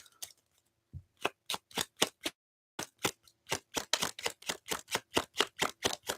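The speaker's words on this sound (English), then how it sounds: "So we're going to shuffle that motherfucker one time" Tarot cards are shuffled close up, producing a series of crisp papery snaps. A few scattered hits come first, then a brief pause, followed by a faster, steady run of clicks with no voices.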